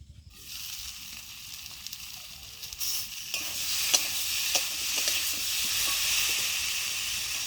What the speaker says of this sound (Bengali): ভালো করে নেড়ে চেড়ে নিয়ে কিছুক্ষণ চাপা দিয়ে রেখে দেবো।